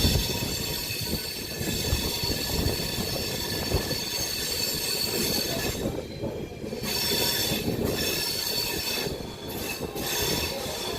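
The 13151 Kolkata–Jammu Tawi Express pulls into Ayodhya Dham railway station with sustained wheel squeal and a heavy rolling rumble of coaches, loud and close throughout.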